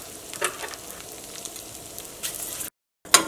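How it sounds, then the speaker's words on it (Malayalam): Flattened rice (aval) frying in ghee in a pan, a soft steady sizzle with light stirring scrapes, a brief silent gap near the end, then a sharper crackle. "ഞാനിവിടെ അവല് നെയ്യിലാണ് വറുക്കാൻ വേണ്ടിയിട്ട് പോണത്"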